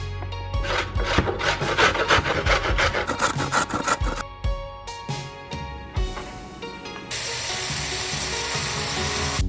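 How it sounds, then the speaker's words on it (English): Carrot is shredded on a grater in rapid, rhythmic rasping strokes, loud and close, before the scraping gives way to a steady sizzle near the end. "Now we will add some veggies by shredding 1 cup of carrot."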